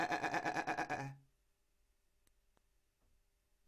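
A person's voice imitates a sheep with a loud wavering bleat lasting about a second, followed by near silence with a few faint ticks.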